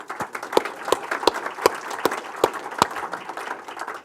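An audience applauds and claps steadily, with sharp individual claps standing out from the crowd's continuous patter. The clapping is moderately close and carries on alone.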